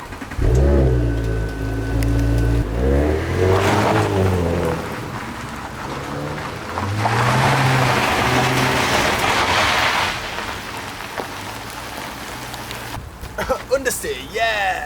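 A 2018 Audi S5 Sportback on a road test, its engine revving up and falling back in several rising sweeps, close and loud, with someone talking over much of it.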